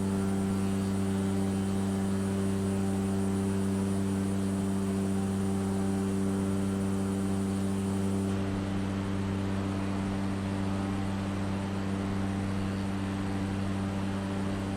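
Steady droning hum of a small bush plane's propeller engine in flight over Iceland, constant and loud throughout with a slight change in tone partway through.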